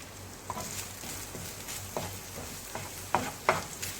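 Pizza sauce with oregano mixed in a pan, a soft constant sizzle with several close clicks and scrapes of a spoon against the pan, growing sharper toward the end.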